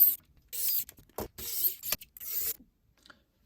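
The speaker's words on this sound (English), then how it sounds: "I'm going to take my 4 screws and screw the roll cage back down." Small screws being turned by hand to fasten the roll cage back onto a NASCAR diecast car, heard up close as a few short ticking and creaking bursts with brief pauses between them.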